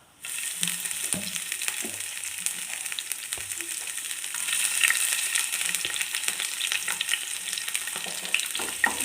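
Ginger and garlic hit hot oil in a pan where mustard seeds have already popped, giving a steady crackling sizzle with scattered sharp pops and occasional stirring scrapes, no talking.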